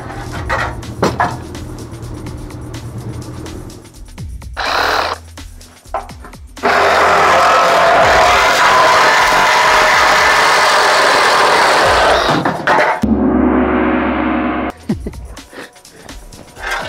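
Milwaukee 18V cordless reciprocating saw cutting apart leftover wreckage into pieces small enough for a kei truck: a loud, sustained, harsh buzzing cut of about six seconds, framed by quieter start-stop bursts and handling noises.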